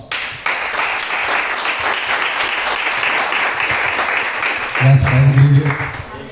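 Church congregation applauding during an evening worship service, a dense, steady wash of clapping that swells near the end as a voice begins speaking over it.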